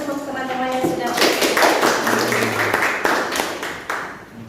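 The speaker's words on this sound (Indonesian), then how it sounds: "Tepuk tangan untuk teman-teman yang sudah." Students in a classroom clap for their classmates during a micro-teaching lesson, a burst of scattered hand claps under a brief voice, fading out toward the end.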